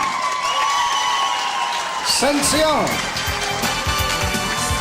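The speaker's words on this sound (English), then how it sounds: "Let's have another nice round of applause." A boxing crowd applauds after a unanimous decision, a dense wash of clapping and cheering that runs throughout beneath an announcer's voice.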